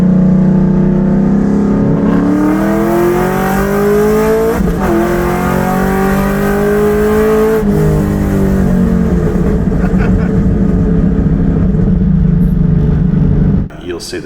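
A cammed, supercharged Coyote V8 in a Ford GT-HO roars under sustained load on a dyno, the pitch rising steadily through the revs with a few brief shifts, loud and close, before cutting off sharply at the end.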